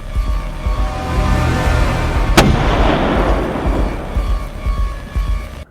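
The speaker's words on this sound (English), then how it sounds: "I needed a place to hide this massive gun thingy that shoots equally massive bullets" A massive gun in a Godot game-jam video game fires equally massive bullets, with one sharp, loud shot standing out over a dense, continuous layer of booming, rumbling game sound.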